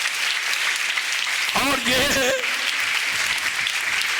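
Church congregation clapping loudly for a pastor's sermon, a broad steady wash of applause filling the whole stretch, with a voice briefly speaking over it partway through.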